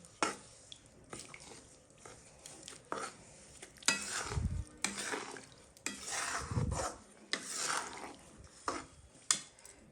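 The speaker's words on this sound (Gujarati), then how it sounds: "ગોળ હવે ઓગળી રહ્યો છે અને તેમાં જે ગાંઠો હોય તે પણ આપણે આ રીતે તોડી નાખવાની" Melting jaggery is stirred and its lumps broken in a pan on the stove, giving irregular scraping, clinking spoon-against-metal strokes and soft sticky squelches, close up and continuous, with no talking.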